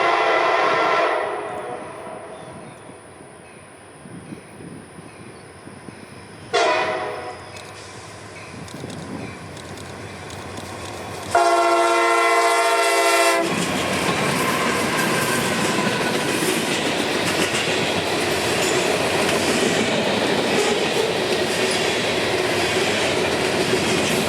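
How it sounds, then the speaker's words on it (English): A CSX freight train, the X602 extra out of Mobile led by an SD70 locomotive, sounds its horn in long blasts and then rumbles loudly past with continuous rolling wheel and wagon noise. "as X602 would come out from Mobile with a shiny SD70 in the lead"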